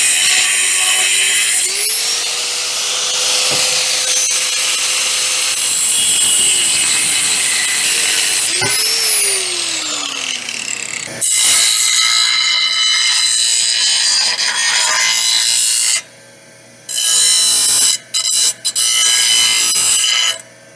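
A power saw slices through metal stock in a trailer workshop, its motor whine rising and falling across two long cuts, loud and close, then giving way to bursts of rough grinding and scraping before stopping short.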